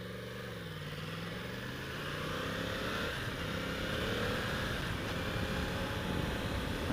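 A 2016 Yamaha R1S motorcycle engine running at a steady idle, a low even drone that swells slightly in loudness partway through, heard alone without talk.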